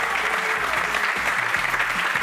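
Applause from a studio audience for a band on a Valladolid talk show, dense and steady clapping that fills the whole stretch, with faint voices underneath.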